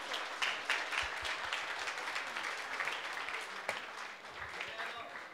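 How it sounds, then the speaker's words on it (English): Crowd applause at a Bollywood film music launch for Bezubaani Ishq, a dense continuous patter of many hands clapping with scattered louder claps and some background voices mixed in. "Can we have a huge round of applause for Abbas Mastan sir?"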